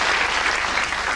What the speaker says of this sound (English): Give me a round of applause, come on.